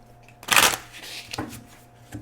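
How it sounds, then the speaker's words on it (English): Oracle cards from the Messages of Love deck slide out of the pack in a couple of quick papery swishes, close and fairly clear, with one strong burst followed by softer shuffles. "I'm going to pull from the Messages of Love Oracle Cards deck by All Things Intuitive"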